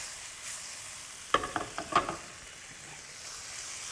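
Capers and tortellini tossed in a hot frying pan, a steady sizzle with a brief burst of clattering, scraping stirs in the middle; no talking.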